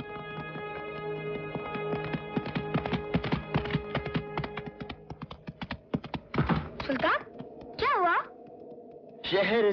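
Horse hooves clip-clop in a quick, uneven run of sharp clicks over sustained musical tones, followed by a few louder sweeping, wavering calls toward the end.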